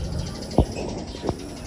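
Two short, low pigeon coos sound close by, separated by a brief pause, over a quiet background hum during racing-pigeon loading day.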